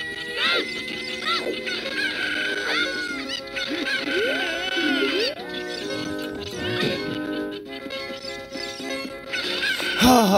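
Chickens cluck in the Legend of Zelda: Ocarina of Time ranch area, with scattered squawks and clucks mixed under steady, busy game music for the whole stretch.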